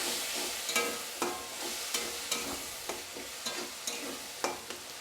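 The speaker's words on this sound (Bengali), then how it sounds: "সেই মটরশুঁটিটা এর মধ্যে এখন দিয়ে দিচ্ছি। মধ্যে দিয়ে দিচ্ছি খুব সামান্য একটু জল, যাতে মশলাটা পুড়ে না যায়।" Peas and spices sizzle in a pan with a splash of water, a soft continuous frying hiss broken by regular light stirring scrapes, close and fairly quiet with no talk.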